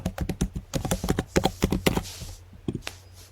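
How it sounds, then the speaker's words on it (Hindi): Someone types a password on a computer keyboard to log in: a quick run of close, crisp keystrokes that slows into a few final taps. "पासवर्ड लिखेंगे आप दोबारा से अपना।"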